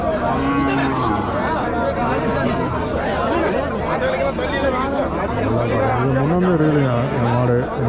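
Crossbred cattle moo repeatedly at a busy village cattle market in Mattrapalli, with several drawn-out calls rising and falling amid loud crowd chatter and people talking nearby.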